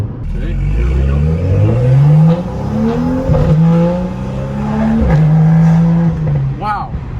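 BMW M car with exhaust valves open pulling hard from low speed, loud close engine and exhaust climbing through several gear changes with sharp shift breaks, someone talking briefly over it.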